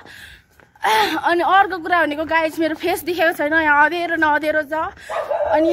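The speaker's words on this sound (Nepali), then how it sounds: "त्यहाँ कुकुर भुक्दैछ" A dog barks and yips somewhere in the dark outdoors, partly buried under a person talking close by throughout.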